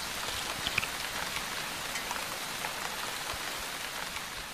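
Light rain falls steadily in a desert, a dense, even patter of drops on the ground with no voices, continuous and fairly soft throughout.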